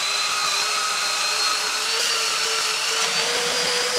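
A belt sander fitted with 80 grit runs across a glued oak door, giving a constant close, loud motor whine with a gritty abrasive hiss, steady for the whole stretch and without speech.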